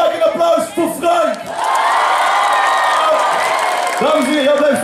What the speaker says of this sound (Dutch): Maak een applaus voor Frank!